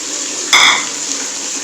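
A short splash of water poured into a pan of cooking tomatoes and green chillies, a brief hissing sizzle under the steady sound of frying.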